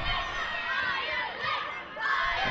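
A capacity wrestling arena crowd roars and cheers continuously, a broad dense wash of voices with shouts rising and falling, swelling again near the end, while a commentator talks over it.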